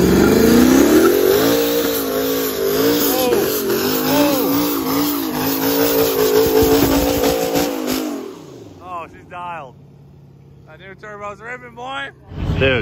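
Van engine revving hard with a newly fitted turbo, loud and close, rising and falling for about eight seconds before cutting off, followed by people talking.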